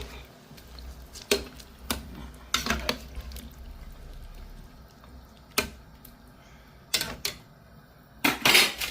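A spoon stirs curry in a pot of water, giving sharp scattered knocks and scrapes against the pot with soft watery sloshing between them.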